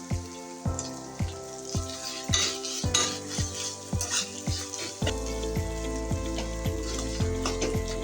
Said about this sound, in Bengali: আদা রসুন পেস্টটা দিয়ে আমি ভালো করে ভেজে নেব